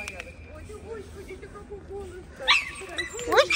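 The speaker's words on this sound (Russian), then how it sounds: "Собаку увидел, завизжал." A Basenji puppy on a walk whines and squeals at another dog in two short, high-pitched bursts near the end, close by, over a low murmur of background noise.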